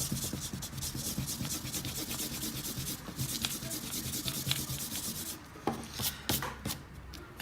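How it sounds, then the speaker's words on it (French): A pencil eraser rubs out construction lines on drawing paper in steady scrubbing strokes, close and fairly quiet, with a few sharper scrapes and taps near the end. "on peut gommer nos traits de construction."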